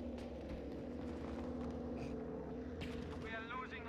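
A propeller plane engine in the shooter game Battlefield V on the Fjell map, caught in an audio bug, gives a steady, low droning rumble that persists under other in-game noise.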